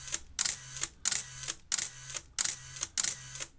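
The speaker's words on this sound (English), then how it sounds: "Press the shutter button and it works." A Canon T90 film camera, under repair for the EEEE and blinking-arrow fault, fires its shutter about six times in a steady rhythm, each a crisp mechanical click and whir heard up close.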